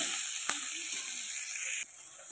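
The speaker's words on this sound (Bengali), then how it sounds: "ওই তেলের মধ্যে একটা গোটা টমেটো আর একটা গোটা পেঁয়াজ ভালো করে কুচি করে আমি পেঁয়াজ আর টমেটোটা ভেজে নিচ্ছি" Chopped onion and whole tomato fry in hot oil, giving a steady close sizzle with a couple of brief stirring clicks, the hiss dropping slightly near the end.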